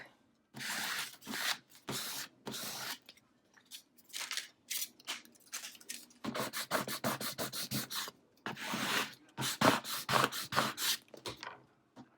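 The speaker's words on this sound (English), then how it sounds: "I'm just going to place this as close to the center as possible and then give it a good scrape" Scraper rubbed firmly over a Cricut-cut vinyl storage label, producing bursts of quick, dry scratching strokes, some slow and spaced, others fast and rhythmic, close up and with no talking.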